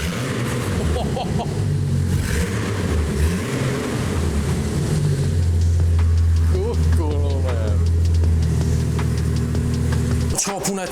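A Jeep Wrangler with a 4.7-litre petrol engine runs on a dyno during a Stage 1 tune, giving a steady, loud low engine drone that holds for several seconds, with voices talking over it.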